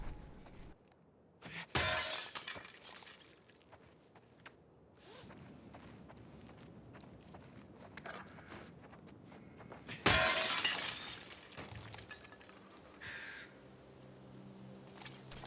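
Glass shattering in The Last of Us Part II, played in glitch mode: two loud, bright breaking crashes several seconds apart, each with a short trail of tinkling debris over quiet game ambience.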